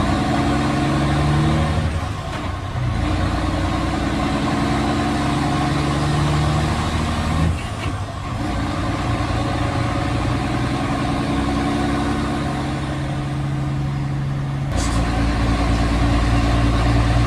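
GMC pickup truck engine idling while shifting into sixth gear under a load of mulch, a loud, close, continuous mid-low drone with a few brief dips and shifts in tone, and no one speaking.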